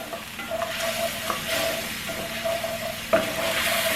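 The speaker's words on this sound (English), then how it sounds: "we're gonna add 2 tablespoons of a very good tomato sauce. I'm using the pizza tomato sauce" Pizza tomato sauce goes into a hot pan for Spanish meatballs with cuttlefish, bringing a constant loud sizzle with intermittent stirring scrapes and a brief louder splash of frying, with no voices.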